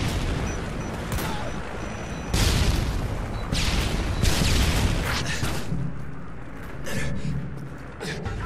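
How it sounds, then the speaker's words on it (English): A stun grenade goes off in Call of Duty Modern Warfare 2 multiplayer, a loud booming burst within a dense mix of gunfire and explosions, with game voices calling out. "Tossing stun grenade!"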